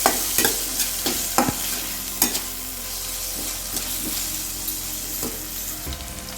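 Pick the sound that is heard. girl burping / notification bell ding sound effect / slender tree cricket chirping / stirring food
stirring food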